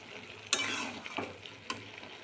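Vegetables with sugar sizzle faintly in a frying pan as a spoon stirs them, giving a few sharp scrapes and clinks over a low hiss, with no talking.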